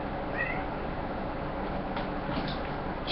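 A cat lets out a brief, whiny meow early on, faint over a constant room hiss, followed by a couple of small clicks and shuffles.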